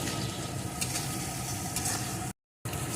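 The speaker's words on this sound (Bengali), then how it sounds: "এখন সমস্ত কিছুকে ভালো করে কষিয়ে নেব" Spice paste with chili powder, turmeric and salt sizzles steadily in a pan for coconut egg korma, a constant hissing fry broken by one short silent gap.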